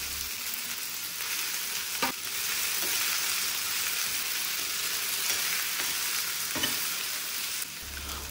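Okra sizzles and fries in mustard oil in a frying pan with ajwain and green chillies, a steady loud crackling hiss with occasional stirring clatters, no talking.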